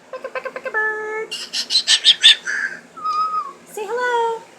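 A pet bird gives a string of whistles, chirps and squawky calls, close and fairly loud, in quick bursts and sliding whistled notes.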